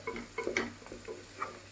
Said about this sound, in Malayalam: ജീരകം ഇട്ടിട്ട് നന്നായിട്ടൊന്ന് മിക്സ് ചെയ്യുക